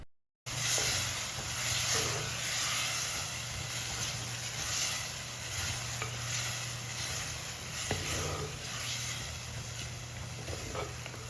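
Cooked tomatoes stirred in a hot pan for palak chicken curry, with a continuous close sizzle and hiss and soft scraping strokes throughout, no one speaking.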